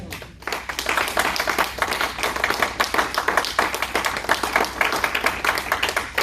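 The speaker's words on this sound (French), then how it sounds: "J'attends ton amen. J'attends tes acclamations." A church congregation at a sermon claps in a loose, rhythmic pattern, with distinct hand claps repeating steadily and fairly close, no voices over it.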